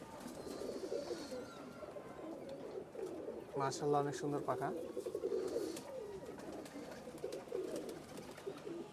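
Pakistani and Rajshahi giribaz pigeons in a fancier's loft coo softly in a low, continuous murmur, fairly faint, while someone speaks briefly partway through.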